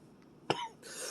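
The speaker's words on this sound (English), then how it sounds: "Especially since I'm coughing." A single sharp cough from a person, brief and fairly close, standing alone against a quiet background, followed by a soft breathy rustle.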